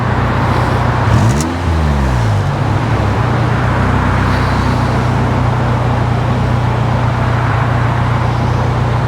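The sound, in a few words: car engine and exhaust running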